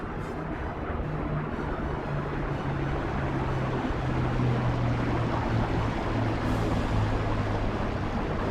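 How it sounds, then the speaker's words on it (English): Six Rolls-Royce Merlin piston engines of a Supermarine Spitfire, Avro Lancaster and Hawker Hurricane flying in formation, a steady deep droning roar with a low humming tone that holds loud and unbroken throughout. "Bringing the sound of 6 Rolls-Royce Merlin engines."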